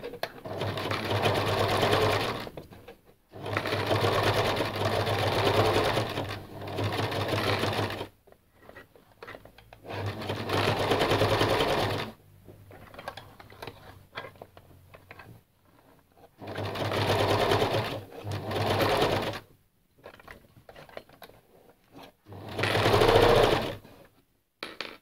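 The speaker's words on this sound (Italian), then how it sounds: "Metto la fascia sul piano ed inizio proprio a cucire." A sewing machine stitches a fabric band for a shopping bag in several long, close bursts of rapid rhythmic whirring, separated by short pauses.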